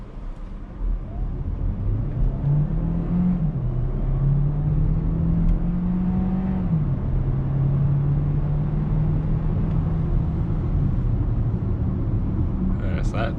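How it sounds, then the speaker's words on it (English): A 2022 Hyundai Tucson Hybrid accelerates from 0 to 60 mph in eco mode, heard from inside the cabin as a steady low engine drone whose pitch climbs and dips with shifts over several seconds. "I'm just gonna let my foot off the gas and let my foot off the brake and mash the gas"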